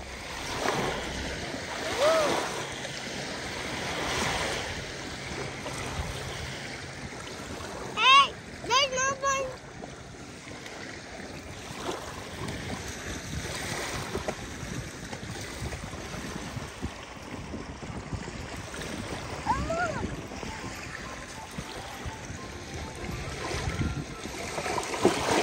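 Water rushes steadily at Gardiner Dam, a broad continuous roar heard at a distance for the whole stretch, with people and someone talking over it and a brief louder knock partway through.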